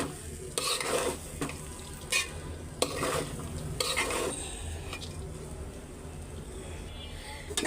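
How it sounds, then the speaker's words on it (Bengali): Rice for khichuri is stirred and fried in a pot, with a steady sizzle broken by sharp spoon scrapes and clinks against the metal throughout. "খুব সুন্দর করে ভাজলে কিছুই নাকি ভালো হবে একদম ঝরঝরা সুন্দর হবে তো আরও ভাজতেছি"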